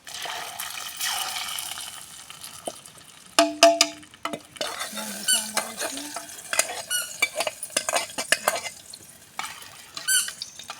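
Tempering spices sizzle and crackle in a pan while being stirred, with spoon scrapes and bright pops spread over several seconds and no one talking.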